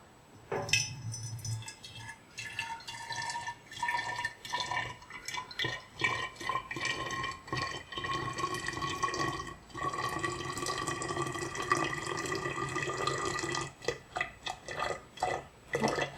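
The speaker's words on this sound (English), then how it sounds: "I think I'll fill this one up because it looks nice in the fridge." Homemade lemon cordial poured into a bottle in a kitchen, a close, continuous liquid gurgle and trickle with occasional glass clinks and drips, fairly quiet throughout.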